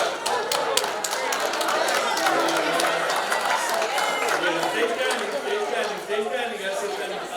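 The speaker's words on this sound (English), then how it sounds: "All right, let's give a round of applause." Conference audience applauding together at an engineering leadership keynote, a dense steady wash of many hands clapping with crowd chatter mixed in, sustained at fairly even loudness throughout.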